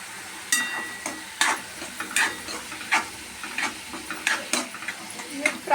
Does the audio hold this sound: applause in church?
no